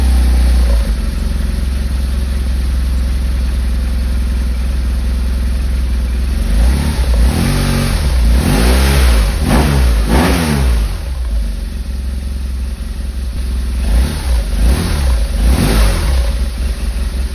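A BMW R1200S motorcycle engine idles with a loud, close rumble, then climbs and falls through several sharp revs in quick bursts around the middle and again near the end.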